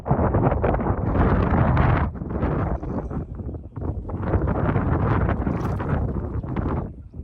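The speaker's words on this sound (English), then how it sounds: "Excuse the wind, but it's windy" Heavy wind buffets the microphone in loud, rumbling gusts, dropping briefly midway before surging again.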